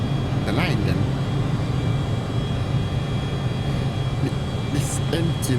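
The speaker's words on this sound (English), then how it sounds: "This engine is loud." A steady, loud airplane engine drone in Microsoft Flight Simulator, a constant roar throughout with faint voices over it.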